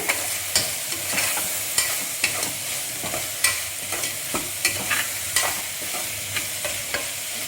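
A spoon repeatedly scrapes and knocks through beetroot frying in a pan for salna, rhythmic stirring strokes over a steady sizzle, close and clear with no speech.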